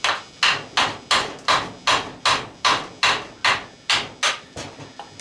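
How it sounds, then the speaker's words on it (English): A hammer strikes a scrapped miter saw while it is taken apart, about fourteen sharp, evenly spaced metallic taps that ring briefly and fade, close and loud with no talk. "do some tapping with the hammer."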